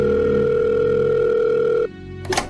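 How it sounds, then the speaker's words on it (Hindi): A phone dialing a hospital number gives a loud, steady electronic tone that cuts off abruptly, followed by a short clatter. "नीलिमा ने जल्दी से अपना फोन निकाला और हॉस्पिटल का नंबर डायल कर दिया।"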